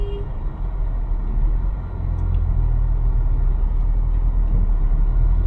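A Honda Vezel crossover SUV is driven in traffic, heard from inside the cabin as a loud, steady low engine and road rumble with no clear breaks.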